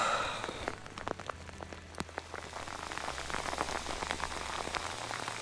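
Real outdoor rain that is easing off patters steadily on a surface nearby, with many distinct drops ticking and tapping over a soft continuous wash, and no one speaking.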